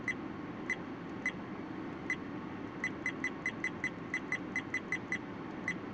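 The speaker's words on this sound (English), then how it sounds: "ignore all the beeps. It's just my dash cam" A car dash cam gives off short, high electronic beeps during a drive through a West Michigan blizzard, sounding in an irregular series of about twenty beeps over low, steady cabin and road rumble.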